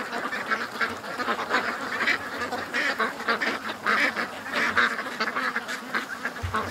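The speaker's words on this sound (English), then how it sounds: "Oh, there's a cute duck." Muscovy cross ducks and other waterfowl quack and honk in a steady, busy chorus close at hand, with repeated calls overlapping throughout.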